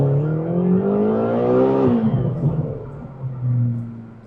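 A tuned McLaren sports car engine revs up with rising pitch, drops sharply as it shifts, then climbs again, loud and close, with no talking.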